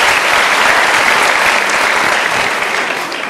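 Audience at a motivational seminar bursts into loud, dense applause that fills the room steadily from start to finish, with no talk over it.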